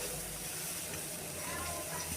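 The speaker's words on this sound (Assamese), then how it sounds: "এতিয়া গোটেই মিশ্ৰণখিনি আকৌ এবাৰ ভালদৰে ভাজি ল'লোঁ।" Small fish and a sesame spice mixture fry in a pan over low heat, giving a soft, steady sizzling hiss throughout.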